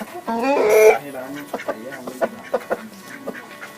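Fighting roosters at a Thai cockfighting pen crow and cluck close by, one loud drawn-out call at the start followed by a string of short, sharp clucks and squawks.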